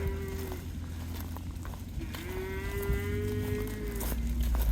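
Cattle low repeatedly while being yarded up as a mob on a farm, with long drawn-out moos rising and falling over a steady bed of rumbling background noise.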